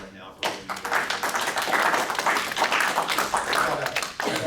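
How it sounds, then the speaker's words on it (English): Applause at a city water board meeting in Greensburg, Indiana: a room of people clapping steadily and fairly close for several seconds, with some murmured voices mixed in. "So we're going to applaud you right now for what you've"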